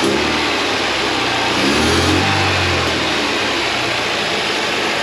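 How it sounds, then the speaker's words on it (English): A Mercedes W124 wagon with a swapped engine running close by, a steady idle with a brief rev rising in the middle before settling back, loud and continuous with no talk. "Seems to be idling pretty good. It might be a little tick too high, but at least I can rev it."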